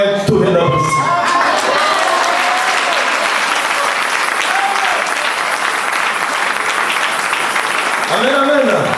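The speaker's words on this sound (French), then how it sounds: "Donnez-moi un tonnerre d'applaudissements." A church congregation at an evangelistic service in Paris bursts into sustained, loud applause with some cheering, a steady roar of clapping that fills the room for nearly the whole stretch while a voice speaks over it at the start and end.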